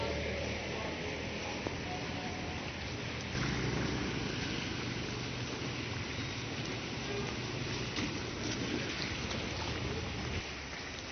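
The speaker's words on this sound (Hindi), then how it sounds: "दोपहर से दोबारा बारिश का सिलसिला जारी है।" Steady rain falls in a continuous moderate hiss with no clear individual drops, a constant wash of sound throughout.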